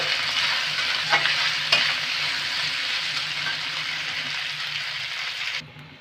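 Boiled, cut taro pieces fry in hot oil with garlic, giving a loud, steady sizzle with a couple of spatula scrapes before it quietens near the end. No one speaks.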